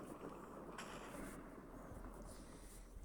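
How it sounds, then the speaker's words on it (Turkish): A lightning strike in a video game gives a low, continuous rumbling roar of thunder with crackling texture, steady and fairly quiet throughout, with no speech. "Nereye bakarsam oraya şimşek çarpıyor."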